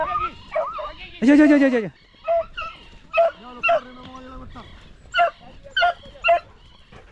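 Dogs out on a rabbit hunt in the countryside give a long whining yelp and then a run of sharp, loud yips and barks in quick bursts, mixed with excited shouting from a person nearby.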